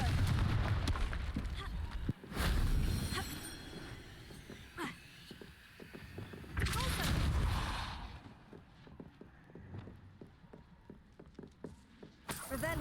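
Confringo fire spell explosions in Hogwarts Legacy, several heavy booming blasts with long rumbling tails spread across the clip, followed by scattered smaller crackling impacts.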